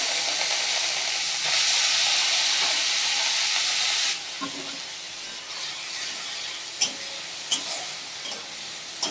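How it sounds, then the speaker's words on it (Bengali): Fish frying in mustard oil in a wok, the oil already used for frying brinjal, giving a steady loud hiss that drops to a softer sizzle partway through, with a few sharp spatters and pops near the end. "এই যে কড়াইয়ে সর্ষের তেল নিয়েছি যদিও আমি এই তেলটাতে ভেগ বেগুন ভেজেছিলাম তো সেই তেলটাতেই আমি মাছটা আগে ভেজে নেব ভালো করে"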